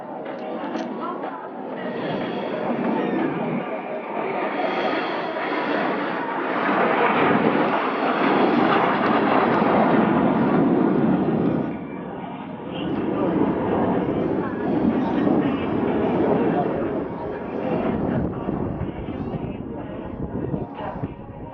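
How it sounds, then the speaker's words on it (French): Four Patrouille de France 2017 jets returning for a signature formation at the St Bertrand airshow, a loud sustained roar that swells and dips over about twenty seconds. "Et tout de suite, 4 appareils qui reviennent sur votre droite pour cette figure emblématique de la patrouille de France 2017"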